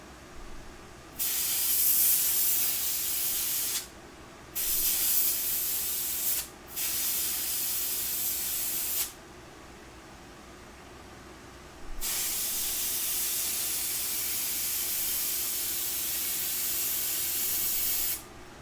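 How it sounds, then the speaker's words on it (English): An airbrush sprays paint in long steady hissing bursts separated by short pauses, close and loud against a quiet background. "if I want to push the vein down into the skin, I back the airbrush up"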